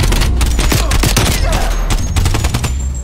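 AK-47 rifle in Call of Duty Cold War firing loud, dense bursts of automatic gunfire with booming impacts, continuous and close throughout.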